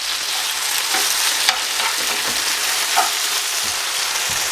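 Floured chicken pieces fry in a hot pan in a small batch, a steady dense crackling sizzle running throughout with a few faint clicks and scrapes of utensils, no voices.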